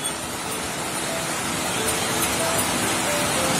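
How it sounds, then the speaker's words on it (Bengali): Heavy rain falling outdoors on a road and trees, a dense, even hiss that stays steady throughout, fairly loud and with no talk over it. "রাস্তা অনেক জোরে বৃষ্টি হচ্ছে।"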